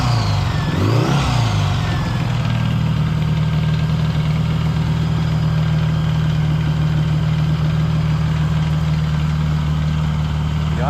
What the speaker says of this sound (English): The idle is starting to pick up.